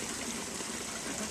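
A small backyard pond waterfall at night gives a steady, soft rush of trickling and splashing water. The sound is continuous and even, fairly quiet, with no voices.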